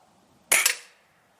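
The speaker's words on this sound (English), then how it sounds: "So fire off one more." A single sharp crack from a Roebel B2-2 .22 caliber air rifle firing a pellet, close and crisp, with a quick decay and nothing else around it.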